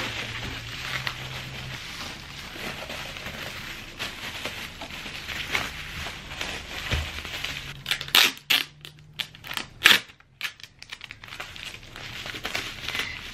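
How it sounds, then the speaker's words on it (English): Bubble wrap is handled and crinkled while framed art without front glass is packed into a box for shipping, with steady soft rustling that turns into louder, sharper crackles and pops toward the end, close by and with no talk. "some bubble wrap over it."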